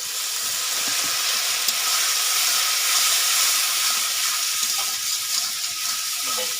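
Water splashed into hot masala frying in a pan for a village-style desi chicken curry gives a steady, loud hissing sizzle that holds without a break throughout.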